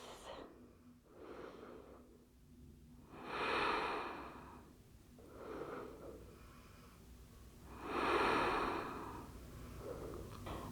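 Slow, deep breaths taken while resting in a yoga pose, with long airy inhales and exhales swelling and fading in an unhurried cycle, close and soft with no talk.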